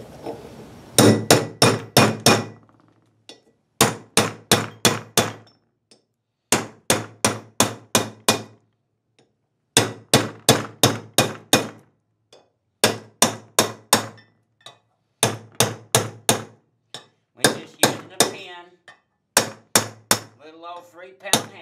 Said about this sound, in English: Three-pound hammer.